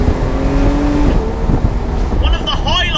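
A Porsche 997 911 GTS with a PDK gearbox drives on, its engine a steady low drone with a pitch change around the midpoint that suggests a quick gear shift, and a voice talks over it.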